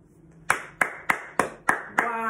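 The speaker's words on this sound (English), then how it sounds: "stand up and we're going to give you a big clap" Children clapping along at a school celebration of learning: six crisp, evenly spaced claps ring out close and loud, the last running into a short hum, with no voices.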